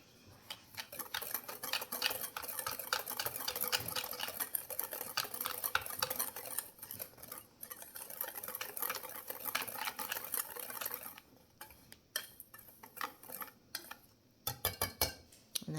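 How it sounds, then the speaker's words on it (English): A homemade fajita seasoning blend of dry spices, including celery powder, is stirred briskly with a metal utensil in a bowl, giving continuous scraping and clanging for about eleven seconds before it slows to a few scattered taps. "so we're going to mix this up."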